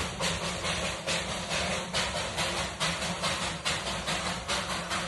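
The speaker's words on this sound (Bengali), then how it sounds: "পাহাড়ের রানী দার্জিলিং এর কলবে টয় ট্রেন এগিয়ে চলেছে" The Darjeeling heritage toy train's steam engine chugs steadily through the hills with rhythmic puffing and hissing, a continuous rumbling engine sound with regular beats throughout.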